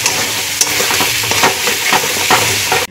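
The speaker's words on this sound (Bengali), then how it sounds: "আলুগুলো এবার দিয়ে দেবো, মশলার সাথে একটু আলুগুলো কষে নেব।" Potatoes stir-fried with spices in a hot pan sizzle steadily and loudly, with a spatula scraping and tapping against the pan throughout, before the sound cuts off abruptly at the end.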